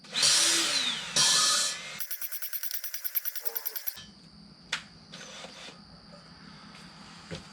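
A valve is lapped against its seat with grinding compound while building performance LSX cylinder heads, giving a rapid series of close, dry tapping and rubbing strikes between broader scraping and rattling noises.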